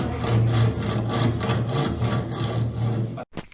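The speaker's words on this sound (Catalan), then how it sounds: "Això és un serrat i serveix per tallar." A hand saw cuts through wood with continuous rasping back-and-forth strokes, close and fairly loud, ending abruptly with a short clatter.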